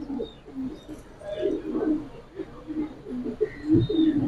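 Pigeons, including Giribaz, silver, Pankhi and army breeds kept at a breeder's loft, make low soft cooing sounds in repeated murmuring phrases at moderate distance, with faint background noise.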